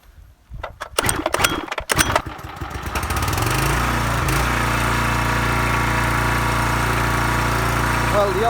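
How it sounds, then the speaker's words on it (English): A car engine, with a Gunson Superstrobe timing light attached, cranks over with a few uneven bursts, catches after about three seconds, then settles into a steady, loud, even idle that holds to the end. "Let's fire the engine up."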